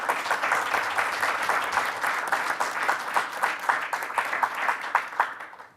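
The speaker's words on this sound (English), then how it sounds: "I would like to take this time to give her a round of applause in her absence." Audience members at a board of education meeting give a sustained round of applause, a steady, dense patter of many hands clapping at moderate distance, continuing throughout without talk.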